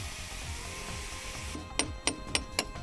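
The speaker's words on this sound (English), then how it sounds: "A chase cutter can easily cut grooves as required." A chase cutter working on AAC blocks: a steady grinding hum gives way to four sharp, evenly spaced rasping strikes near the end, fairly quiet and close.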